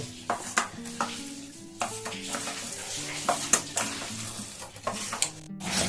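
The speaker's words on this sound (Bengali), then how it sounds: "এবার আমি হাতে খুব ভালো করে এগুলোকে মেখে নেব" Sago (sabudana) vada mixture mashed and mixed by hand in a bowl, with irregular soft squelches and pats at close range over a low background hum.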